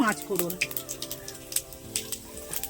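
Bay leaves and spices sizzle in hot oil in a wok, a soft crackling with scattered pops. Someone speaks over the frying.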